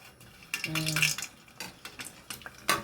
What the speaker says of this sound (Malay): Kita goreng ni.